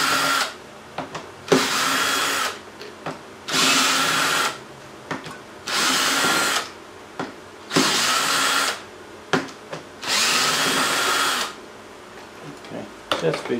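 A screw gun fitted with an adapter drives bolts on a homemade overhead-valve Briggs engine, with repeated whirring bursts of a second or two separated by short pauses, loud and close.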